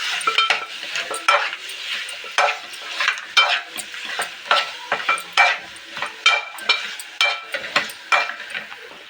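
A spoon stirs chili powder into curry in a frying pan, rhythmic scraping strokes repeating about every half second over a faint sizzle, close and fairly loud with no voices.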